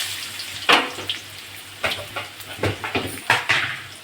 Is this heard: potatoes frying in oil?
yes